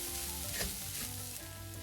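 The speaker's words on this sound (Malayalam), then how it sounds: "ഇതിൽ എണ്ണ ഒഴിക്കാതെയാണ് വറുത്തെടുക്കുന്നത്" Fennel seeds and curry leaves crackle quietly as they dry-roast in a pan without oil, a steady faint hiss with a short stirring scrape partway through.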